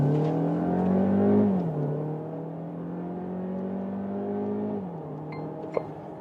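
A 1.5 TSI mild hybrid petrol engine in a compact SUV accelerating in sport mode, a steady rising drone with a gear-change dip, heard from inside the cabin without talk.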